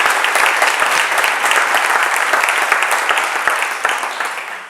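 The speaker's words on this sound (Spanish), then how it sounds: "Un aplauso muy fuerte para todos los presentes." A conference audience applauds steadily, a dense wash of many hands clapping that holds strong and slowly tapers off.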